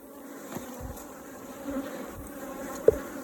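Steady buzzing of bees around a top bar hive with sagging comb hums throughout, with a few brief louder passes and a sharp click near the end, close by with no talking.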